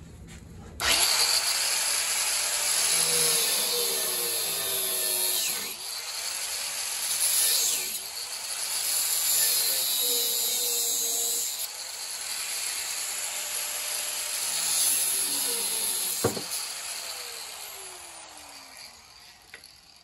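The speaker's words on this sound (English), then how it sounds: "Wheel was getting a little small, so I should have replaced it before making that last cut." A cut-off wheel grinds through the metal beam of a 1969 VW Beetle, a loud, high, continuous whine rising and falling across several passes, close by, with brief pauses and a sharp click near the end.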